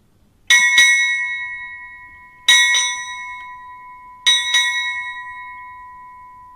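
A ship's bell strikes six bells at a naval change of command ceremony: three paired double rings, each pair struck quickly and left to ring out and decay before the next, clear and alone.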